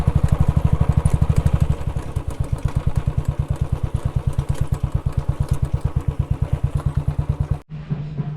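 A motorcycle idles with a steady rapid engine thump, close and loud, as it is parked in the shade near a temple, then the engine cuts off abruptly near the end.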